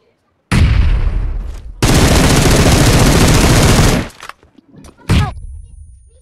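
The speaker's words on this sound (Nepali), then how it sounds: "त्यत्रो गोली हान्दा नक भएन हौ" Rapid video game gunfire rattles in two loud sustained bursts, then a shorter final burst, close and harsh with no speech over it.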